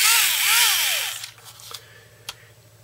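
A small high-pitched Tamiya handheld hobby drill whirs loudly, its pitch rising and falling, then stops, followed by a few light clicks over a low hum.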